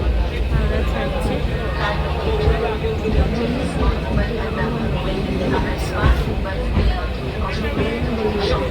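A train pulls out of Howrah station in Kolkata, a low continuous rumble with faint rail clatter beneath busy crowd chatter and talking nearby.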